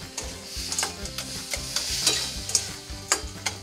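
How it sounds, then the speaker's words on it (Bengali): Mango pulp being stirred in a pan, a close, rhythmic run of spatula scrapes and taps over a low sizzle, with no one speaking. "কিছুক্ষণ নাড়াচাড়া করতে হবে এরকম করে।"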